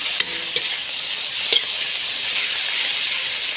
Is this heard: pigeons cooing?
no